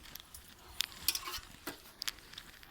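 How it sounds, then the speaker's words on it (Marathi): Oil goes into a hot kadhai on a wood-fired chulha stove, giving soft, scattered sizzles and a few sharp metallic clinks against a quiet background. "कढई पण तापलेली आहे तर आपण त्याच्यामध्ये आता तेल ओतून घेऊ"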